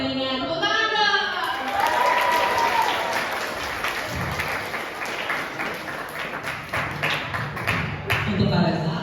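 An audience in an Indonesian art event talk session breaks into sustained applause, dense clapping that swells, continues and tapers over several seconds while voices carry in the room.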